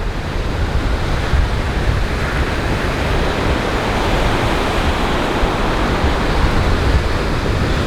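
Ocean surf rolls steadily onto Benaulim Beach in South Goa, a dense, constant wash of breaking waves heard close and loud, with no voices.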